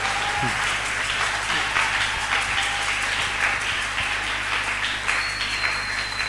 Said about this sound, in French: Acclamons-le très très fort.